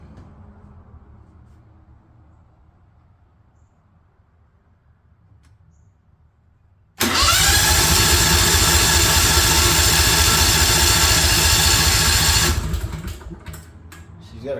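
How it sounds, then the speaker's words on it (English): A new propane-fueled home standby generator engine, freshly fueled, is quiet at first, then loudly cranks and catches into a steady roar for several seconds before easing down. "She's got to crank for a minute because you just put gas into it, propane, so then it's going to have to prime itself and get started."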